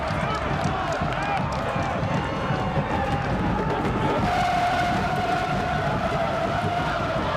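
Soccer stadium crowd at a USL Cup match between Louisville City FC and Phoenix Rising FC, a sustained loud roar of cheering with rising whistles, with a commentator speaking over it.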